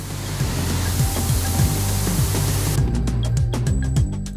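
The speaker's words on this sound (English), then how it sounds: "The base coat is then sprayed on, providing the color." Spray guns apply base coat to Audi car bodies in a paint shop, giving a steady, loud hiss of atomised paint with low mechanical thumps beneath, the spray cutting off near the end to leave quieter, pulsing bursts.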